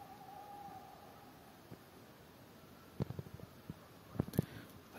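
A faint tonal call drifts through a quiet forest in North Wales at the edge of Snowdonia, followed by scattered soft knocks and a couple of brief low hoots.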